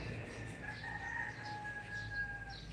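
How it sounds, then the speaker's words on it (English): Roosters crowing outdoors in the morning, a drawn-out cock-a-doodle-doo call at moderate distance over steady background noise, with faint overlapping crows further off. "We can listen to the roosters together."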